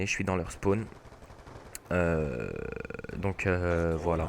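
MP7 submachine gun fire in the mobile shooter Standoff during a demolition match, a rapid burst of sharp shots partly under someone talking in French.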